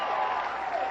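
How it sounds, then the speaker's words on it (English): An audience applauds at a comedy club during a 1989 stand-up show, in a short, dense wash of steady clapping at moderate volume, without any speech over it. "Oh, sure, you applaud now."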